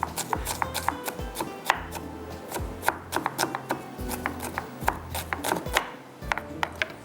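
Onion and tomato are finely chopped with a knife on a board, giving rapid, irregular close-up taps and thuds in quick bursts with brief pauses, and no voices.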